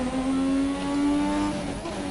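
A Ferrari race car engine howls with a whiny, high-pitched tone, holding a steady note close by, then its pitch shifts and drops as the revs change, loud throughout with no talk.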